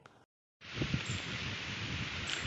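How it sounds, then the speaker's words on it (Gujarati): Wind rustles through trees outside a Shiva temple, a steady breathy rush with bumps of wind against the microphone that fills the moment after a brief gap of silence. "સરસ મજાનો પવન આવે છે અહીંયા"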